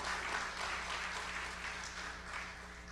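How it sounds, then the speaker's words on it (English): Audience applause for Hall of Fame inductees at the opening ceremony of a Caribbean broadcasting general assembly, steady dense clapping from a large crowd throughout, fairly faint and distant. "Final round of applause, please, for the Hall of Fame inductees."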